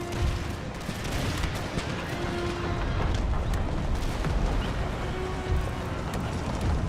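Massed pistol fire from a pistolier unit in the Empire Total War battle game, a dense, steady crackle of distant shots with a rumbling battlefield bed throughout.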